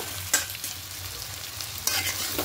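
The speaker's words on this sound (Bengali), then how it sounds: "খুব ভালো করে দেখুন কষিয়ে নিয়েছি। টমেটোগুলো গলে গলে এসছে।" Tomatoes cooking down with salt in a pan for an egg curry, a steady close sizzle broken by two sharp scraping stirs of a spoon against the pan.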